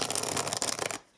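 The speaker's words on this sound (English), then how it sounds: "So I will shuffle and we will pull 6 cards as we always do." Cards of a Villain's Tarot deck being shuffled, a steady close rustling riffle for about a second before cutting off, with no talking.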